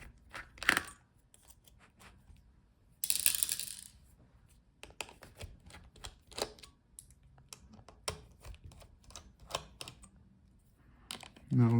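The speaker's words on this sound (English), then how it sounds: "Take out all the screws." Screws being removed from an MSI Pulse 15 laptop, scattered small clicks and metallic taps with a couple of brighter rattles as parts come out, close and fairly quiet in a quiet room.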